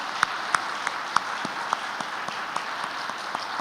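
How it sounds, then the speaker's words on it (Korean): A church congregation applauds in welcome for visiting pastors, a continuous patter of clapping with a few sharp individual claps standing out above the steady wash. "큰 박수로 환영해 주시기 바랍니다."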